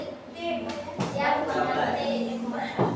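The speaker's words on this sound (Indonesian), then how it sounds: "Tepuk satu, tepuk dua, tepuk tiga" Children clap their hands in a counting clap game, a few sharp claps breaking through lively voices of an adult and kids talking.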